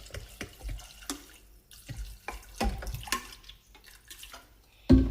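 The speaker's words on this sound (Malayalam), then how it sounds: "1 കപ്പ് കടലയ്ക്ക് 3 കപ്പ് വെള്ളം ഒഴിക്കണം." Water splashes and gurgles into a pressure cooker holding chickpeas, poured in uneven bursts with intermittent clatter, close and fairly loud, no talk.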